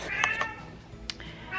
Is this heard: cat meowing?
yes